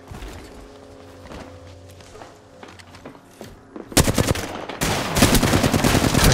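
Gunfire in an Apex Legends Arenas match starts with faint footsteps and game ambience. About two-thirds of the way in, loud, sustained rapid-fire bursts break out at close range.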